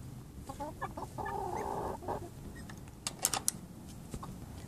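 Several chickens cluck softly in a quiet yard, with a few sharper squawks near the end.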